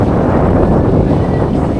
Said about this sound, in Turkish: 17 nat rüzgar